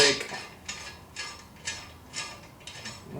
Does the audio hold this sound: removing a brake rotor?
yes